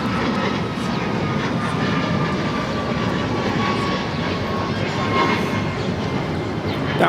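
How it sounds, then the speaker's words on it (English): United Airlines Boeing 737 MAX 9 jet departing Los Angeles International Airport, a loud steady broadband engine roar that holds at full strength throughout with no gaps, heard from near the runway. "That was United Airlines 1718 taking off to Kailua Kona on the MAX 9"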